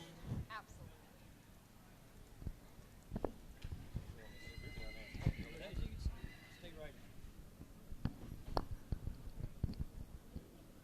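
A horse neighs and whinnies in a lively outdoor dispersal sale, with scattered clip-clop hoofbeats and clicks around it while people talk nearby through most of the stretch.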